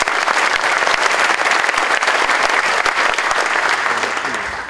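Loud, dense audience applause at the inauguration ceremony of SMA Negeri Taruna Nala, a state high school in Malang, East Java. The clapping holds steady and unbroken for the whole stretch, then eases off slightly at the end.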